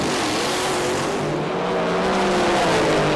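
A Pro Mod drag racing car makes a run at a British Drag Racing Championship round, a dense sustained roar of engine noise holding loud and steady throughout without a break.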